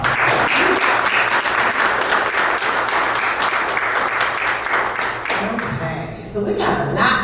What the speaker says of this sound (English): So let's give them some applause.